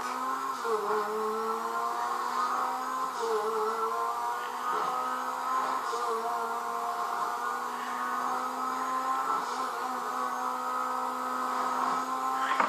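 A fast car in GTA 5 drives with a steady, close engine whine that dips and climbs in pitch a few times as it shifts and revs, running continuously without pause.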